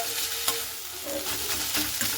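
Fenugreek greens and potatoes sizzle in a frying pan as a spatula stirs and scrapes through them, a short close burst of steady frying with soft clatter.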